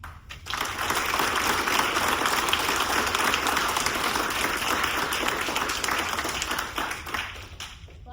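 An audience applauds at a military change of command ceremony, a dense, steady burst of clapping about seven seconds long that fades out at the end.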